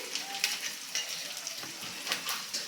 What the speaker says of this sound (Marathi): आता कांदा इकडं आपला फ्राय होतोय